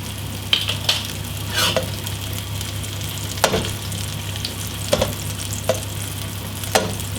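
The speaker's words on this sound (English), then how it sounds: "we're going to cook one side of the fish before we flip over" Fish frying in oil in a pan on medium heat, a steady close sizzle with a low hum beneath and several sharp scraping clicks scattered throughout.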